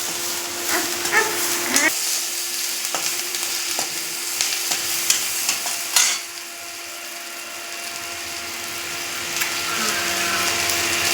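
Vegetables and coconut sizzling in a hot pan with occasional stirring scrapes, steady frying hiss that quiets partway through, a dog barking faintly at times.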